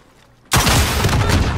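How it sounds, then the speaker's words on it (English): Loud video-game gunfire that starts suddenly out of near silence and carries on as a dense, sustained rattle of close shots and booms until the end. "I'm taking fire."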